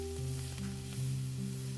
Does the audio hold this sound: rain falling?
no